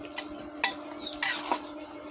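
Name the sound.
stirring bay leaves and panch phoron in hot oil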